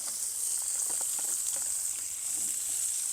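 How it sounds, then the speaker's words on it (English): Zucchini frying in a pan with rendered sausage fat, giving a steady, close sizzle with light crackle that holds evenly throughout. "I want to use that to fry up these veggies"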